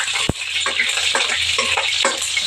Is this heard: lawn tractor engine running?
no